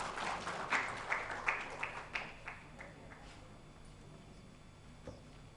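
A conference audience on women's empowerment breaks into applause, a burst of claps that peaks early and then thins out and fades over a few seconds.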